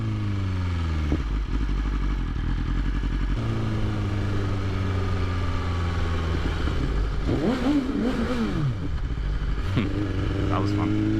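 A 2020 BMW S1000RR sport bike of close to 200 horsepower accelerates loudly and steadily with strong engine tone shifting through gears, heard up close with wind rush and no speech.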